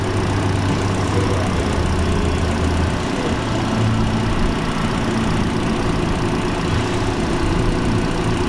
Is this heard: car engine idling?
yes